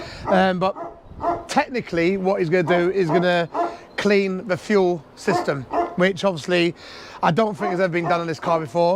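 A big dog barks loudly in sharp, irregular bursts close by, mostly buried under someone talking continuously.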